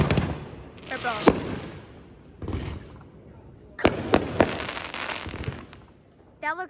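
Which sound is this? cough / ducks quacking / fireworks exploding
fireworks exploding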